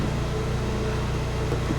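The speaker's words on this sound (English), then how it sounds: "Engine sounds great." A Fiat 500 with about 44,000 miles, bought at auction, idles on a steady, even engine hum that stays constant and close, with no talk over it.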